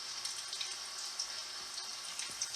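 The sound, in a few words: oil bubbling while deep-frying pakora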